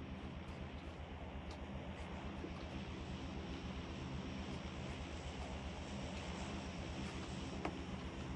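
A transport airplane drones overhead in PUBG Mobile, a steady, continuous engine roar that holds evenly throughout with no talk over it.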